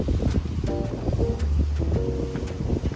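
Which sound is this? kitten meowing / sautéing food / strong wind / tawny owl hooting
strong wind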